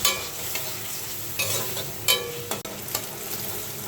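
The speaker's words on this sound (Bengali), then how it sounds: "আমার কাঁচা ঝাল, পেঁয়াজ, চিংড়ি মাছ একটু ভাজা হয়ে গেছে" Green chili, onion and shrimp frying in a pan, a steady close sizzle broken by several louder bursts of stirring and scraping, with no talking.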